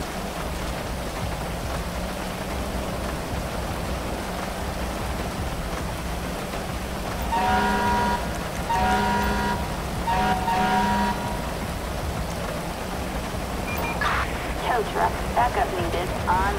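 Heavy rain and wind in Grand Theft Auto V during a firefighter rescue scene: a constant hissing downpour throughout, with short tonal beeping bursts and some talk layered over it.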